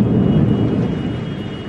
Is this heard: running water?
no